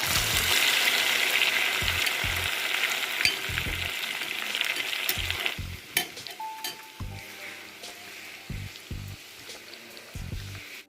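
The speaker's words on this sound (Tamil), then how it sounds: "எண்ணெய் சூடானதும் கத்திரிக்காய் வேலை போட்டு பொறிச்சு போகிறேன்" Dried anchovies and eggplant fry in hot oil in a pan, a steady close sizzle and crackle that slowly fades, punctuated by repeated knocks of a spatula or spoon against the pan.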